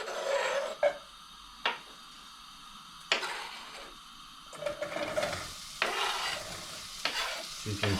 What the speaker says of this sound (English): Sizzling straight away.